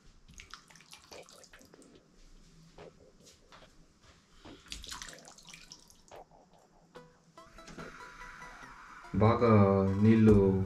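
Water is poured into a cooking pot for a rice rava upma, splashing and trickling in uneven bursts that grow louder and fuller toward the end.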